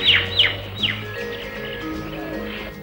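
A bird calling in the Thar Desert after rain, presumably a peacock: a few sharp, bright descending calls in the first second, then quieter tonal cries and other faint calls over a soft outdoor background.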